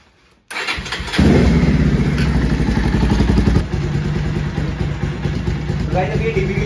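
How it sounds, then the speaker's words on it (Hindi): A Bajaj Pulsar 220F motorcycle with an Akrapovic full-system exhaust starts up close by and settles into a loud, steady, rumbling idle, with a slight dip partway through. "हम आपको सुनाते हैं एग्जॉस्ट की आवाज"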